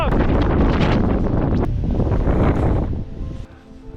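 Strong gusting wind in a snow storm roars loudly and steadily against the microphone around a buried snow shelter, then eases off near the end.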